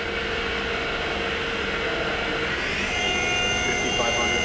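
A Hardinge Bridgeport CNC vertical machining center's 8,000 RPM spindle spins up, a steady loud whine and hiss that climbs in pitch partway through as the speed increases, with a person talking over it.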